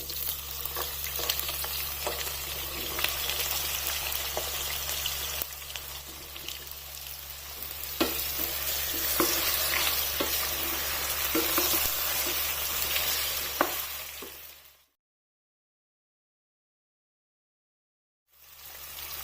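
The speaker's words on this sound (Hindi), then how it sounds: "अब इन आलू को ऑयल में फ्राई होने देना है तकरीबन 4 से 5 मिनट तक।" Round-sliced medium potatoes fry in oil for aloo bhujia, with a steady close sizzle and occasional stirring clicks over a low hum, ending in a brief stretch of silence.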